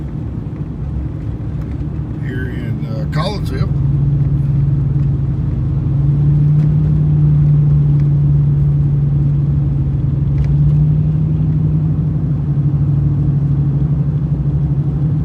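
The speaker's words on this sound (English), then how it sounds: "We see a salt truck here coming through right now." A salt truck rolls along a snowy winter road in Collinsville, its engine a steady low rumble that builds and holds for several seconds as it passes close by, after a brief spoken phrase at the start.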